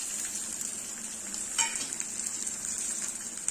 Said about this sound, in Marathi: तेल ऑलरेडी ऑलरेडी तापलेलं असतं सो इथे आपण घालणार आहोत हिरवी मिरची त्यामध्ये म्हणजे थोडीशी कोथिंबीर आणि सर्वात शेवटी हळद